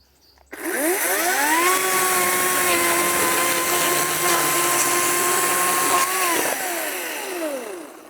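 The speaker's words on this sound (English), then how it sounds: "I'm going to lop off about 1 foot of it with a chainsaw here" A chainsaw revs up and roars steadily at close range for several seconds, cutting about a foot off a wooden boat's transom planking, its pitch holding high while cutting, then winding down at the end.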